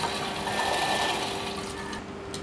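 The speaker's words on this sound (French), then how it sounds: "On va mixer tout doucement une première fois afin d'obtenir quelque chose de crémeux." A blender gently mixes a prawn batter made with lemon juice, giving a steady, close whirring hum that runs unbroken and then eases slightly near the end, with no voices.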